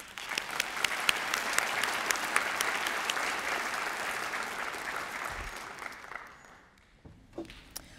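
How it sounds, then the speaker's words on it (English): School district audience gives a round of applause at a teacher of the year event, sustained crowded clapping with scattered sharp claps that gradually fades out before a few final claps. "Let's give each of them a round of applause for their generosity"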